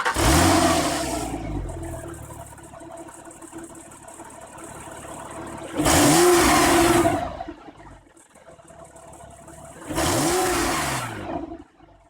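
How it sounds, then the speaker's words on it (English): A 997 Gen 2 Porsche 911 engine idles, then blips three times in sharp, loud revs with a rising and falling howl; each rev is spaced several seconds apart and drops back to a lower idle between them. "Let's see how the new motor sounds."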